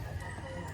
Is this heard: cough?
no